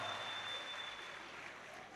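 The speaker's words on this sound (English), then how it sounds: "A round of applause for the Vice Chancellor." An audience at a university pre-convocation lecture applauds the Vice Chancellor with faint, steady, diffuse clapping that holds evenly throughout.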